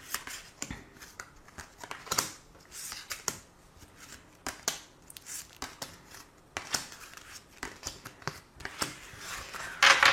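Tarot cards being shuffled and handled for a reading, giving repeated crisp flicks and riffles at close range, loud and fairly continuous, without clear speech over them.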